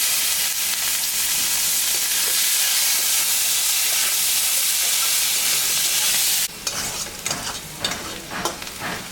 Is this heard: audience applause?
no